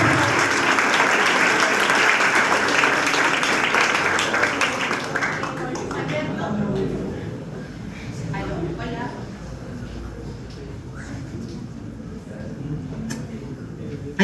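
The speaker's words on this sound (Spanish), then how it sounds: "Fuertes aplausos, por favor." An audience at a school literary gathering breaks into loud, sustained applause that fills the room, then gradually thins out to lighter scattered clapping with some voices underneath.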